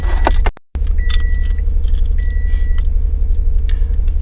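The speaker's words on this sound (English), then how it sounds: "I'm going to turn on the vehicle." Turn-key ignition vehicle started with a working key: keys jangle close by, then after a brief cutout the engine settles into a steady low idle rumble, with a couple of short electronic chime tones on top.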